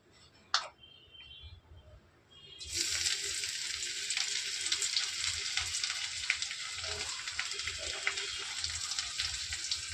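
Chopped garlic dropped into hot mustard oil, after eggs have been fried in the pan, starts a loud, continuous sizzle; a faint clink and quiet kitchen sounds come first, then the frying bursts in and crackles steadily.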